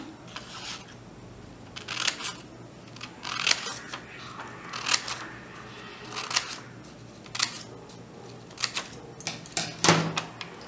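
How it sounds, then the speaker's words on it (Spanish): Scissors snip fabric for a diaper cover, making small notches: a close series of crisp metallic clicks and cuts in uneven bursts over a quiet background, with no talk. "vamos a cortar por acá sin miedo hacemos unos pequeños piquetes"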